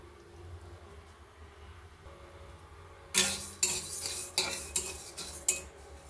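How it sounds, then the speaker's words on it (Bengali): Moong dal dry-fried in a hot wok, starting with a faint quiet background, then a spatula scrapes and clatters against the metal in several loud, uneven strokes during the latter half. "এবার অল্প একটু মুগ ডাল ভেজে নিচ্ছি"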